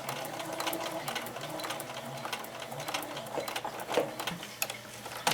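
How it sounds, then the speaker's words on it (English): Sewing machine stitching a foundation paper piecing seam on fabric and paper, a close, steady rapid whirring chatter of the needle running continuously with small clicks near the end. "you stitch right on the line"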